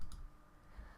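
A computer mouse clicks a couple of times while working in Cricut design software, the short dry clicks sitting close and fairly quiet over a low background hum.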